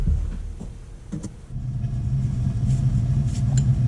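An AO Smith gas water heater burner lights with a soft click or two, then a low steady roar of flame builds and holds close by, with no talk over it.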